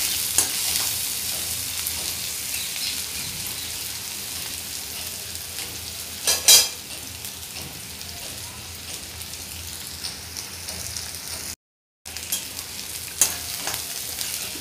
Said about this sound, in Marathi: व्यवस्थित परतून घ्यायचं आहे।